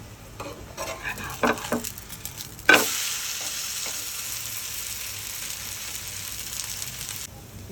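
Moong dal breakfast pancake in a covered pan is flipped with a sharp scrape at about 2.7 seconds, then a steady, close hiss of frying continues for several seconds before cutting off near the end.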